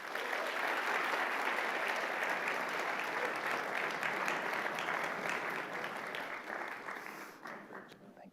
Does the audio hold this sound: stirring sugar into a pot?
no